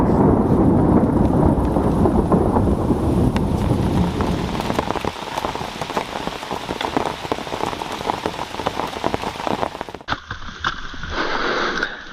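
Steady rain falls on an outdoor surface near the water, a dense hiss of drops that carries without a break and thins to a lighter patter near the end.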